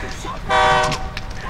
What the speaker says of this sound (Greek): Το τρένο! Το τρένο!